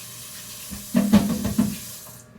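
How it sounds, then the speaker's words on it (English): Tap water splashes briefly into a kitchen sink during hand washing, a soft, close rush that swells for about a second and then fades. "let me wash my hands right quick"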